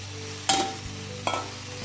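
Dried fish chutney cooks in a pan, with a low steady hum beneath and two brief scraping stirs of a spoon, each a short burst of sizzle, close by with no voices.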